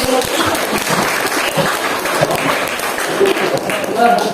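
Classroom applause from a group of schoolchildren after a presentation, a steady wash of clapping that fills the whole stretch, with children's voices mixed in.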